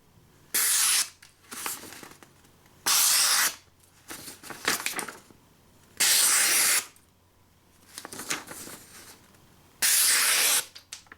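A Lord & Field Farmhand hawkbill knife slices through material in four loud, hissing strokes at regular intervals, with quieter rustling between cuts.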